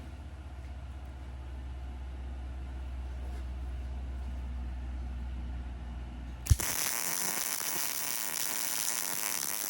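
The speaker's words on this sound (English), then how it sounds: "Let's put a tack on the other side." A steady low electrical hum, then an arc strikes abruptly and a loud, continuous crackling hiss follows for a tack weld on a bumper-mounted vice, lasting to the end with no talking.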